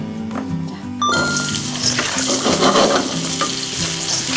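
Sliced cucumber and red chili stir-fry in hot cooking oil: after a quiet first second, a loud, continuous sizzle starts, with scraping and clatter from stirring running through it.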